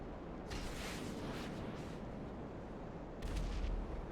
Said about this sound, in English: Didn't see the actual explosion, but I heard the boom.